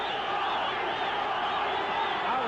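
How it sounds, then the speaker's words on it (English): A boxing crowd at the Rafael Bazooka Limon vs. Bobby Chacon fight roars steadily, a dense wash of voices and whoops that seems to be building toward a chant for Chacon, with no clear rhythm yet. "Now the crowd is trying to strike up a chant for Chacon."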